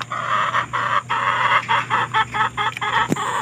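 A chicken clucks repeatedly close by, a run of short, choppy bursts in an uneven rhythm over a steady low hum.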